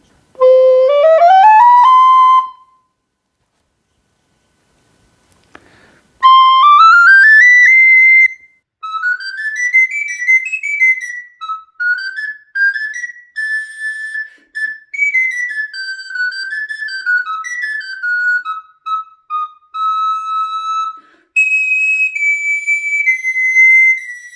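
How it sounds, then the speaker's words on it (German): A soprano recorder plays a short note, then the tiny garklein recorder sounds an octave higher in a longer run of bright, piping notes, close and loud with brief pauses between phrases. "Das klingt genau eine Oktave höher als die Sopran-Blockflöte."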